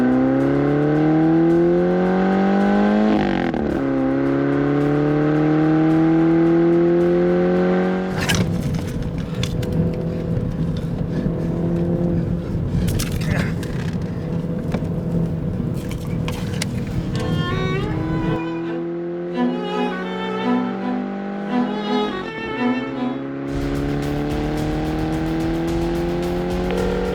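A car is driven hard and revs up through rising engine sweeps, with gear changes breaking the climb. A roaring, gritty stretch and a brief tire squeal follow, all loud and close.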